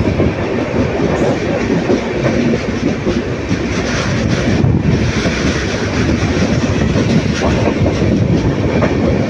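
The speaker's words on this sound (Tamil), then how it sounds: "ட்ரெயின் நல்லா வளைஞ்சு போகுதுங்க." An Indian Railways passenger train runs along a curving stretch of track between Erode and Bangalore, with a loud, continuous rumble and rattling clatter of wheels and carriages heard from on board, steady throughout with no talking.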